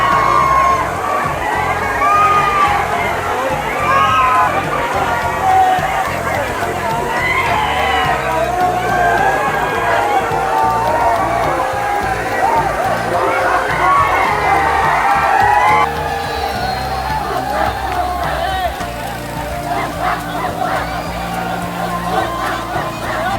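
Loud, dense crowd of people with children shouting and cheering at Muktai waterfall in Doma, Chimur, Chandrapur, a continuous busy hubbub throughout with excited whoops rising above the babble.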